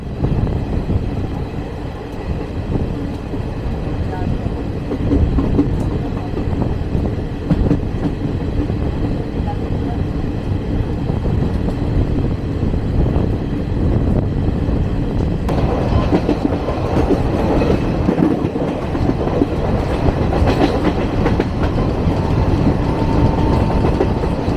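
Kalka Mail passenger train (12312 Netaji Express) rolling along the rails, a loud steady rumble with rhythmic clickety-clack of wheels over joints continuing throughout, the noise growing slightly busier toward the end.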